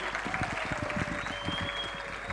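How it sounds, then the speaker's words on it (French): An audience at a live entertainment show applauding the sponsors, with dense steady clapping throughout, moderately close, and no talking. "Est-ce qu'on va applaudir également pour eux?"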